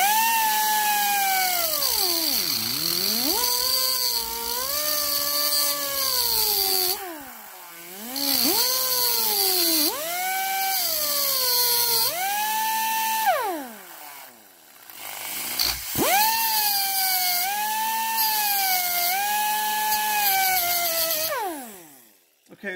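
A power tool whines loudly in long sweeping bursts while grinding metal, its pitch rising and falling as it bites in, with short pauses between passes.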